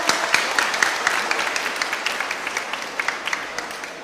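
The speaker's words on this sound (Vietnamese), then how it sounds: "một tràng vỗ tay" A church congregation applauds together during a Catholic homily in Vietnam, a dense, steady clatter of many hands with a few sharper claps standing out, fairly close and fading slightly toward the end.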